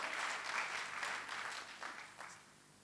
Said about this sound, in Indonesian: Tepuk tangan buat Tuhan saudaraku.